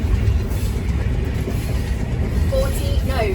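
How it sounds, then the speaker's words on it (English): A train in Zambia rumbles steadily along the rails with a low, continuous roar and faint clatter; a voice speaks briefly near the end. "this train will just stop anywhere"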